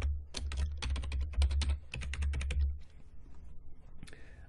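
Typing a password on a computer keyboard: a rapid run of close, crisp key taps over a low hum for about three seconds, then a few quieter scattered clicks.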